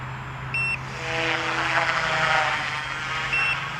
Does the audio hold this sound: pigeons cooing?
no